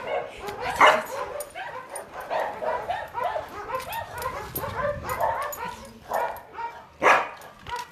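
A dog barks, yips and whimpers in repeated bursts close by, with some excited whining between the louder yaps.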